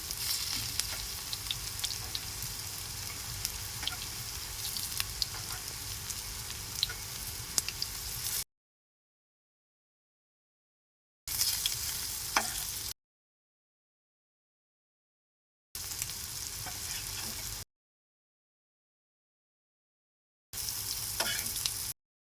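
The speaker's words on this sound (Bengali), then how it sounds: "একদম লালচে লালচে ভাজা করব" Mung dal pakoras deep-frying in oil bubble and sizzle steadily and up close, heard in several separate stretches with silent gaps between them, with no voices.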